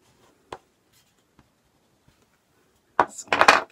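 A pen or pencil sketching a dragon sleeping in a cave on paper: a few faint isolated taps, then a burst of close, scratchy strokes near the end.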